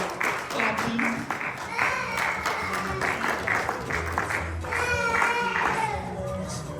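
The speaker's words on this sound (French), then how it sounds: "Yeah, our clapping." Applause and clapping from a crowd, steady and moderately loud, with voices and chatter mixed in underneath.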